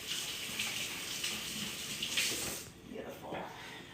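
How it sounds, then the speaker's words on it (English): Tap water runs steadily into a kitchen sink during hand washing while cooking, a broad hiss that cuts off near the end, with faint kitchen sounds afterward. "I'm gonna give my hands a quick wash."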